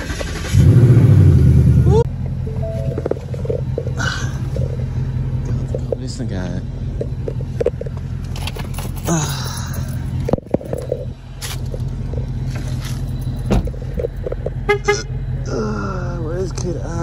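A 2019 Ford Mustang GT engine starts with a loud burst and settles into a deep rumbling idle with occasional revs, while people talk throughout close by.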